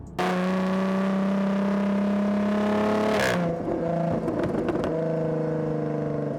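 A Jaguar F-Type engine holds a steady, loud harmonic drone, then revs sharply and drops into rapid crackling pops and burbles from the exhaust, settling back to a rumbling idle.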